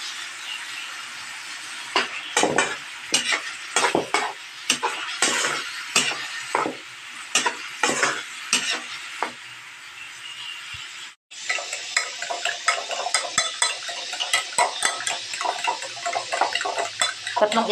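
Tomatoes being sautéed in a pan with salt for a Filipino egg and tomato dish, with a run of sharp utensil scrapes and clinks against the pan, then a steady, dense sizzle that continues on its own.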